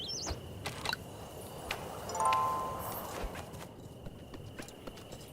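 A goat's hooves hop and clatter about in the video game Little Goody Two Shoes: faint, scattered clip-clop taps across a quiet, ambient background with occasional bird-like chirps.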